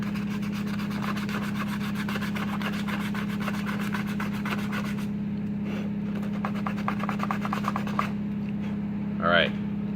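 Plastic for a kids' Death Trooper belt and pouches is rubbed by hand with sandpaper in quick, steady back-and-forth strokes, close and fairly quiet, over a constant low hum, ending with a short squeaky scrape.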